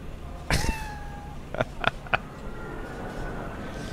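Cat in the video game Cyberpunk 2077 giving one clear, drawn-out meow followed by three short chirping mews, up close over a steady background hum.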